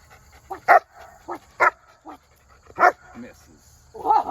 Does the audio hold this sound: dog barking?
yes